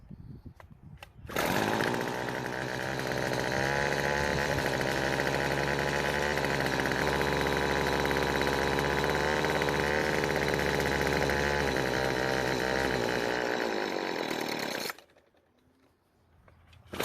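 Gas string trimmer with a faulty kill switch, its small two-stroke engine running steadily at a constant, buzzy pitch for about thirteen seconds before cutting out abruptly, close and loud.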